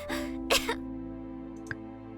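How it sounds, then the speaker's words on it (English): A woman gives a couple of short, harsh coughs near the start, followed by a brief throat-clearing hack later, close and fairly loud over a steady low hum. "she started to cough"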